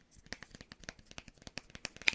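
Scissors and sticky tape handled up close during a French ASMR roleplay: a quick run of crisp, quiet clicks, crinkles and tearing rustles in an irregular rhythm.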